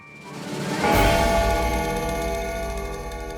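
A struck bell rings out with a bright onset and a long, shimmering metallic decay that sustains to the end, fairly loud and close.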